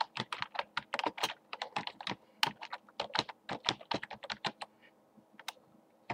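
Keys clack rapidly on a computer keyboard while a command is entered in AutoCAD, a close, brisk run of crisp taps that slows to a few scattered strokes near the end.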